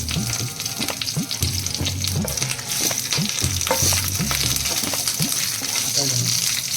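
Curry leaves and a bay leaf crackle loudly in a spoonful of hot oil, with dense spitting and popping, repeated stirring knocks and a faint voice underneath.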